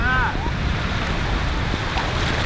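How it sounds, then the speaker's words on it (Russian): Surf breaking on a warm-water beach, a steady washing roar with wind buffeting the microphone, close and continuous; brief voice-like tones appear at the very start. "Как-то резко, ребят, волны нагрянули."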